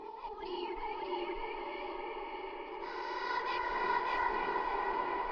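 Atmospheric Omnisphere synth pad for a phonk beat holds a soft, sustained airy drone with a hazy texture, swelling slightly brighter and louder midway, quiet and alone with no voices.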